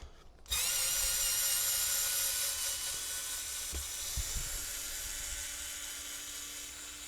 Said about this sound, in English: for the purpose of the video, I'm going to use my electric driver